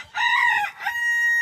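A chicken calls once in a single loud, drawn-out harmonic vocalization lasting just over a second, close by and heard alone without talk.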